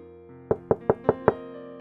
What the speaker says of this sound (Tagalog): bigla na naman may kumatok sa pinto ko